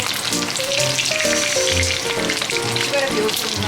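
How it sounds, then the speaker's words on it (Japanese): Food deep-fries in a pot of hot oil, a steady close sizzle and crackle that runs throughout, with faint background tones. "揚げ油の中に入れてる状態だから。"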